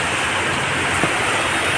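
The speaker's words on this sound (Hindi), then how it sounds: "बाप रे इतना बारिश तेज है देखो।" Heavy rain pours steadily during a storm with lightning amid city flooding, a dense, constant hiss filling the scene at close range with no speech.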